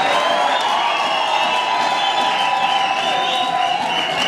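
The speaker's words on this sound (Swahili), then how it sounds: "Hebu nipigie makofi pale mara moja." A crowd of Baptist youth at a church gathering in Tanzania claps and cheers, a loud, dense and continuous roar of applause with whoops that fills the space without a pause.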